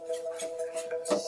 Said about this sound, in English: Stir in the all-purpose flour here. Let it soak up that butter